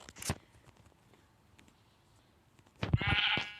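A short bleat, then a quiet pause, then a longer, louder sheep bleat; game-like sheep sounds with no talking.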